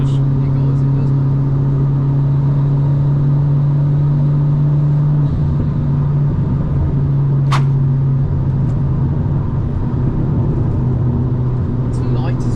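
A Stage 1 Alfa Romeo MiTo drives along a B-road, its engine a loud, steady in-cabin drone that shifts pitch as it accelerates, with people talking over it.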